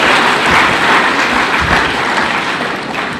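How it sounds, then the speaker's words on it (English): Audience applause at a political speech by Uganda's President Museveni in Kenya: a dense, steady wash of many hands clapping that holds at a fairly loud, even level throughout, with no voices standing out. "let's give a round of applause for all our leaders who have spoken."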